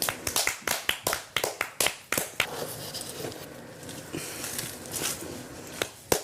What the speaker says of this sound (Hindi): सिर्फ 3 लोगों ने ताली बजाई